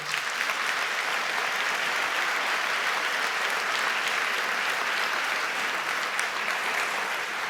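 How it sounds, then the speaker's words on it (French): Sustained, even audience applause for the panelists at the end of a French discussion on artificial intelligence and society, thick and continuous with no voices standing out. "On peut les applaudir très fort."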